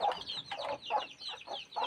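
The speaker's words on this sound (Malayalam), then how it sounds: "കുറേ കോഴിക്കുട്ടികളുണ്ട്, ചില കോഴികളുണ്ട്" Chickens and a brood of chicks cluck and cheep close by at a cramped home during the rainy season, in rapid repeated bursts with no talking.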